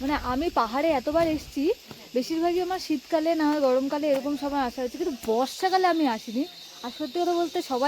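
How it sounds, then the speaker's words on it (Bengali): Countless crickets chirr in the monsoon hills during light rain, a steady dense high drone running beneath continuous close speech. "হাজার হাজার ঝিঝি পোকার আওয়াজ হচ্ছে"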